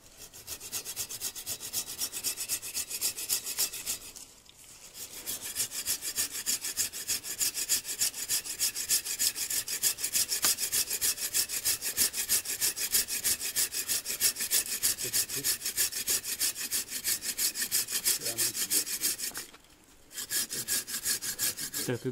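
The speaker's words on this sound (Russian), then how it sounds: "Мы пилим сейчас макушку." A hand saw cutting through the top of a bonsai tree, a loud, close, rapid back-and-forth rasp of steady strokes, stopping briefly twice.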